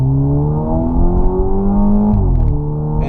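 A 2013 Dodge Dart engine revs up steadily, its harmonic whine climbing in pitch and then rising again after a brief dip, loud and close with no talking.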